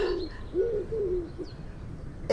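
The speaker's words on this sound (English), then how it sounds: "that quiet sound of the wood pigeon in that quiet street" A wood pigeon coos softly in a quiet street, a few low, gentle hooting phrases at moderate distance over faint ambient background.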